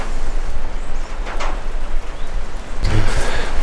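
Rain falls steadily in the main compound of the Bhavishya Badri temple, a close, even patter and hiss that swells louder near the end, with no one speaking.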